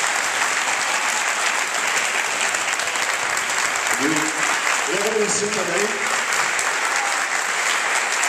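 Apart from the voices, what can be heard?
audience applause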